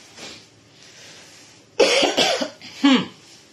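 Three or four harsh coughs burst out in quick succession, close and loud, after a quiet stretch of room noise.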